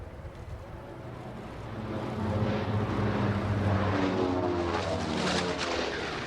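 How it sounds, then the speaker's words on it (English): A B-29 Superfortress bomber flies by, its deep propeller drone swelling from a distant hum to a loud, sustained roar that stays strong to the end, with no talking. "The B-29 Super Fortress and Doc going by."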